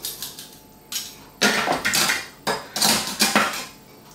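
Cooking utensils such as a straining spoon, spatula and tongs being picked up and set down, a series of close metallic clatters and clinks in uneven bursts, with no voices.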